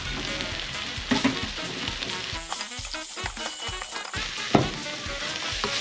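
Mushrooms sizzle and sweat in a hot pan, a dense bright crackle of frying with a few louder clicks and stirring knocks, close up and with no voices.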